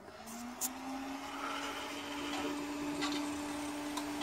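An old Pentium 350 MHz desktop PC, just switched on, runs with a loud steady fan and motor hum with a rising whine that holds throughout, plus a few faint clicks.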